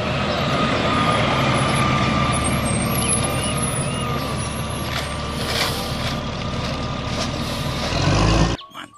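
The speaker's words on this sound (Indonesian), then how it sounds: "Wow, truk sampah teman-teman." Garbage truck rolling past at a busy roadside among other vehicles, a loud continuous engine and traffic rumble with hints of brake hiss, steady throughout and cutting off sharply near the end; reversing beeps are not clearly distinguishable.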